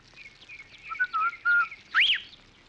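A melodic whistle, a few sustained notes followed by a quick rising-and-falling swoop, clear and close with a quiet background.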